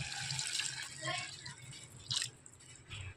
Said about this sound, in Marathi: मी ह्या तांब्याने एक तांबे ओतले